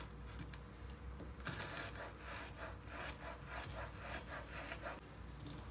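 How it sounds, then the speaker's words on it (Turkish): A knife thinly slices homemade chicken döner, giving soft, repeated close-up scraping and rubbing strokes at a faint level. "Şimdi ince ince bunu dilimliyor olacağım."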